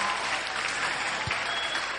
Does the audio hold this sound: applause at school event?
yes